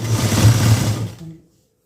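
A sewing machine stitches a blouse lining in a steady low whirring run for over a second, then stops abruptly and leaves silence.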